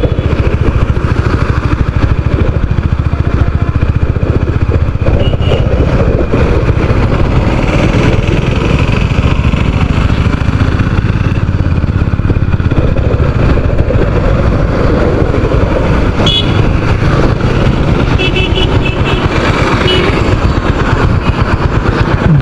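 Motorcycle engines and road traffic near a busy beach road drone loudly and steadily throughout, a constant roar of passing engines with no voices.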